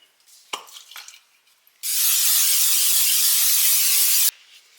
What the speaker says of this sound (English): You want to spray it with some nonstick cooking spray.